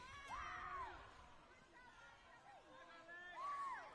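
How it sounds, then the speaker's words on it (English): Spectators at a WBSC under-15 women's Oceania softball qualifier between New Zealand and American Samoa cheer after a double play, with distant crowd chatter and two rising-and-falling shouts or whoops. "Well, listen to the crowd here."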